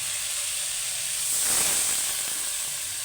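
Water poured into fried, reddened spice paste for a Bengali fish curry sets off a loud, steady hiss of steam and sizzle that swells in the middle and then holds, close, with no talking.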